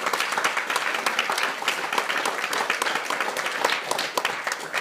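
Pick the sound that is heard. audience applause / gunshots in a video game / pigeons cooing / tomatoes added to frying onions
audience applause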